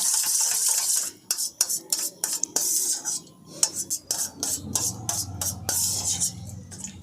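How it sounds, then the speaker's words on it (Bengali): A metal spoon stirs cupcake batter with lukewarm milk for eggless mango cupcakes in a bowl, making brisk scraping and clinking strokes in an irregular rhythm, close and fairly loud. "ভালো করে মিশিয়ে দিচ্ছি যেহেতু দুধটা হালকা গরম আছে এটা মিশতে বেশিক্ষণ সময় লাগবে না"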